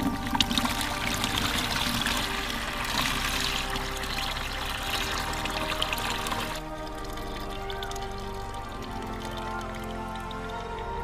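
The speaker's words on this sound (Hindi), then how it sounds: "तो पानी को अपन छान लेते हैं ताकि जो बाकी की चीज़ें हैं वो वैसी की वैसी रह जाए।" Water from boiled bananas poured and strained off through a sieve, a steady splashing trickle that runs continuously, louder in the first half and then softer with lighter dribbling.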